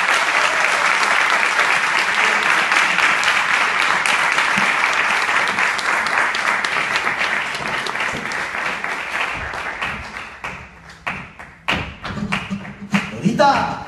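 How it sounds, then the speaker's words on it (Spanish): A crowd applauds a flamenco performer at a flamenco fusion show, with loud, sustained clapping that thins into scattered claps toward the end, and voices mixed in. "Dora Elena García, un aplauso para ella, guapa."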